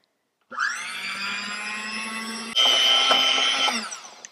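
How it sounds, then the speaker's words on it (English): An electric mixer whisks a banana mixture for a pie crust, starting with a steady whine that jumps to a louder, higher speed partway through before cutting off, with no talking. "you're going to whisk it, but start on a slow setting so flour doesn't go everywhere"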